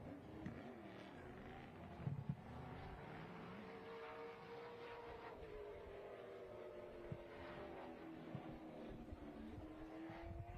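Race cars circling Montgomery Motor Speedway during Alabama 200 qualifying, a steady distant engine drone with shifting pitch as cars pass, faint and continuous over the whole stretch.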